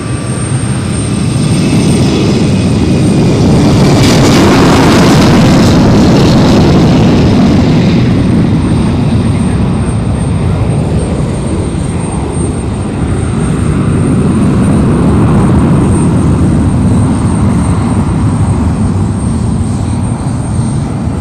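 An Embraer E195-E2 spools its jet engines up for takeoff on the short runway at London City Airport, a loud, steady roar that swells and holds without letup throughout.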